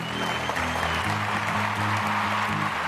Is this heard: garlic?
no